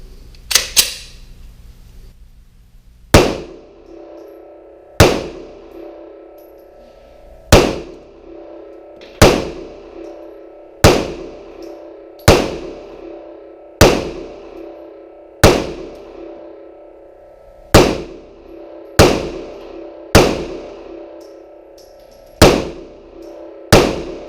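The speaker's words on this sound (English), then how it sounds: "That's the first 15 shots with the Smith & Wesson M&P 9" Fifteen or so sharp, loud shots from a Smith & Wesson M&P 9 Compact 3.6 pistol, fired one at a time at a slow, even pace, each crack followed by a short ringing echo.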